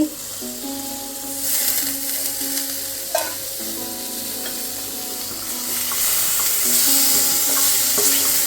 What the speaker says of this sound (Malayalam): പനീറൊക്കെ ചെറുതായിട്ടൊന്ന് ഫ്രൈ പോലെ ആയിട്ടുണ്ട്